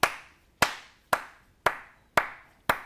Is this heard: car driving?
no